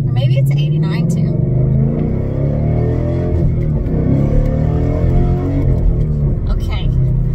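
A 2017 Ford Mustang GT on cold summer tires accelerates hard: a loud, steady engine roar and rumble sustained throughout, with people talking over it.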